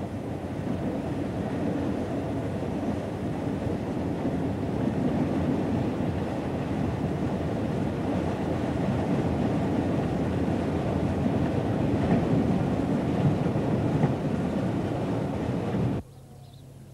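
Steam train with the regulator closed, coasting over a bridge and slowing toward a station stop; a steady, loud rumble of wheels and running gear rolls on without a break, then drops off sharply near the end.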